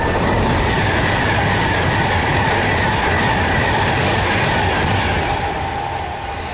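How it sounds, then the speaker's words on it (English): A passing train bound for Scotland rumbles and clatters loudly and continuously, filling the whole stretch close by and easing only slightly at the end, with no talking. "sorry, another train coming."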